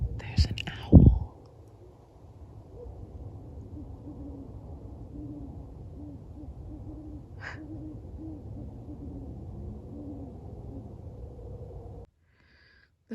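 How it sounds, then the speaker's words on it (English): An owl hoots softly and repeatedly at a steady rhythm in the distance under a low background hum, after a brief loud knock near the start. "There's an owl."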